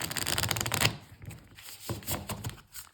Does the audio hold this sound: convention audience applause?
no